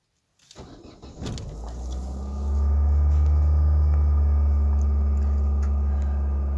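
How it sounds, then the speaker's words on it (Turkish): An Opel Astra G engine with a faulty idle control motor cranks briefly, catches and settles into a steady, loud idle above 2000 rpm with a deep hum, close up and without talking. "Arabamıza marş yapacağız."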